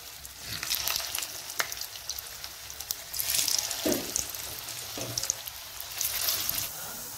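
Pea tikkis shallow frying in hot oil in a pan, a dense, crackling sizzle running throughout at close range, swelling in a few louder bursts as the oil spits.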